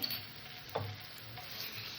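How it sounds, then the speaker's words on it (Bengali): Ginger-garlic paste and golden fried onion cook together in a pan, giving a soft, continuous sizzle with a brief scrape of stirring partway through, quiet and without speech. "আদা রসুন বাটাটাকে পেঁয়াজের সাথে একটু কষে নেবো যাতে আদা রসুনের কাঁচা গন্ধটা না থাকে"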